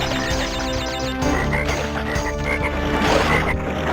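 Low-polygon frogs croaking in Crash Bandicoot Warped, repeated rhythmic croaks layered over upbeat game music, fairly loud and continuous.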